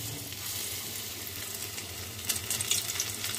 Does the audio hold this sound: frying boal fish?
yes